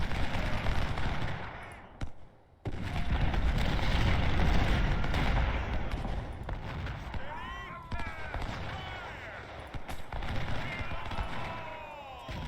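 A Civil War battle in the video game Ultimate General: Civil War fills the scene with musket and artillery fire. Dense, continuous volleys and heavy booms roll over one another, with a brief drop in the noise before the din resumes.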